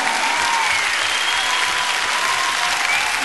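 An audience at a Bulgarian concert applauds in a dense, continuous wash of clapping, loud and sustained throughout with no pauses.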